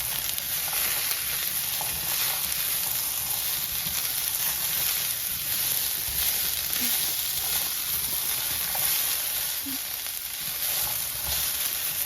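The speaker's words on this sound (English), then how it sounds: "We are saute all ingredients on medium flame, so we can, the food cannot burn" Dry ingredients, ginger among them, sauté over a medium flame in a pan for a coconut pepper curry, giving a steady, even sizzle with occasional faint stirring sounds.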